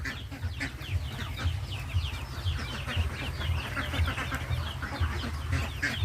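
Pet chickens cluck and peep softly and continuously, with newly hatched chicks among them, a low steady chatter of small birds close by without talk.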